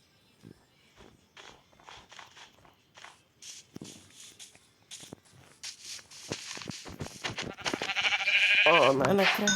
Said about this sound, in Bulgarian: Първата ми коза.